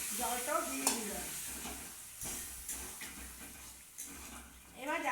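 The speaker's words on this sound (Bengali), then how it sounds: "এবার আমি জলটাও দিয়ে দিলাম" Water poured into a hot pan of fish curry (kalia) with already-fried fish sets off a loud, steady sizzle and hiss with stirring clatter, close by, and a voice is briefly heard at the start and end.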